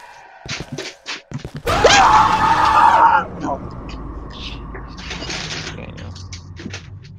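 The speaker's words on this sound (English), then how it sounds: "It sounds like a real scream" A loud, drawn-out scream from a creature in the horror video game Cry of Fear rises for roughly a second and a half, set between clunking and creaking game sounds and a low background hum.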